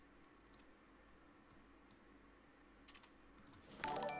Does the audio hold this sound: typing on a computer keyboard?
yes